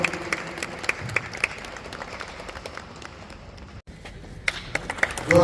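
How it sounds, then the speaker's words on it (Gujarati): Audience clapping at a farewell function, a moderate rattle of scattered hand claps that sharpens into distinct close claps near the start and again at the end, with a short break partway through. "તાળીઓથી વધાવીએ મિત્રો."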